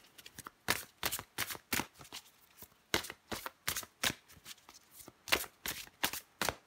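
Tarot-style cards shuffled for a card reading, a rapid series of crisp riffling bursts repeating steadily and close, with no voice over them.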